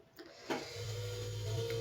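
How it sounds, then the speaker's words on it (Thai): A refrigerator runs loudly indoors: a click near the half-second mark, then a steady, droning motor hum that holds to the end, with no voices. "โอ้เสียงตู้เย็นดัง"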